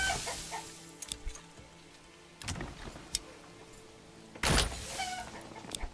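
Chickens clucking in the medieval city-building game Manor Lords, short bursts of clucks and squawks spread through the clip over a steady game background, with louder flurries near the middle and toward the end.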